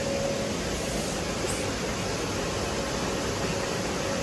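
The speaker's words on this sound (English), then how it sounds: "Hoovering up all the water" Vacuum cleaner sucking up water indoors, a loud constant hissing roar with a steady tone, running alone without talk.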